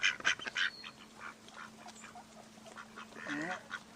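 Ducks quacking outdoors near someone feeding them bread, several short nasal quacks in bursts at the start and a longer run of calls later, moderately close with background ambience.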